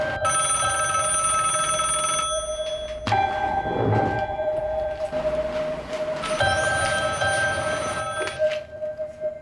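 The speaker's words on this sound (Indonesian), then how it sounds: "Coba lagi terus telepon." Telephone ringing on and off with no one picking up, a bright repeated electronic ring in bursts with brief breaks, loud and close, with soft thuds in between.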